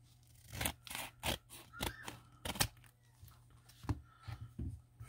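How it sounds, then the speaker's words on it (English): Scissors snipping and cutting open mail packages, a quick irregular series of crisp close snips and scrapes with brief pauses between cuts, with no one talking. "I'm just gonna bust scissors out"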